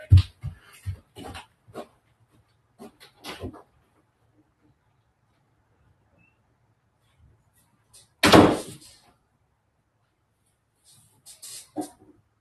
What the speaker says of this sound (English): The wind is like blowing and I have the windows open, so the doors are slamming around here.